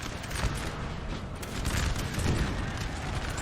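Howitzer artillery in Napoleon Total War fires in a dense, continuous barrage of overlapping booms and crackling blasts, loud and sustained throughout a busy battlefield din.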